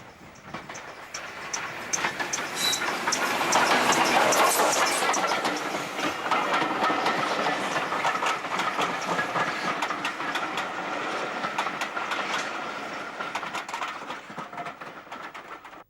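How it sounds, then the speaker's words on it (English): LNER K4 class steam locomotive number 3442 passes a cleared home signal on a railway. A steady rumble swells and fades with rhythmic clatter from the wheels on the track, heard at moderate distance. "Passing a home signal that's cleared is LNER K4 class number 3442, the Great Marquis, a sole survivor of its class"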